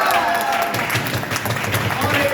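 A crowd claps steadily in a meeting hall, a dense, continuous wash of applause filling the whole stretch at close range.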